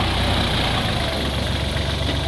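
An old Japanese three-cylinder car engine idles steadily up close, a continuous low rumbling drone with a slightly uneven beat and no talking.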